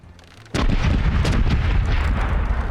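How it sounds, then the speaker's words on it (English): A cannon fires in the pirate video game Corsairs Legacy, one sudden loud boom followed by a sustained rumbling roar that does not fade within the moment. "You got to pick up the cannonballs, stick them into the cannons, light the cannons, and hope that you hit your target."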